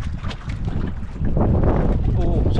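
A small fishing boat turning on open water, loud wind buffeting the microphone with water wash and engine rumble, a voice speaking briefly.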